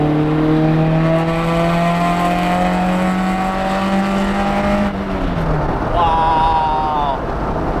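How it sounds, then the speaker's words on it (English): Toyota AE86 engine with a high-profile cam revving hard while driving, one long rising-then-steady roar that drops off sharply near the end, followed by a brief lighter rev, loud and close. "it's high profile cam, so it gets on cam pretty late in the rev range"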